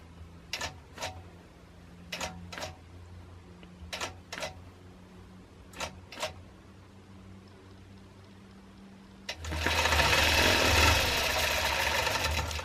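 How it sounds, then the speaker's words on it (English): A Butler robotic quilting machine sews an up-and-down stitch, giving paired sharp ticks at a steady rhythm over a low hum, then breaking into a loud continuous mechanical whir near the end. "It's going to do an up and down stitch."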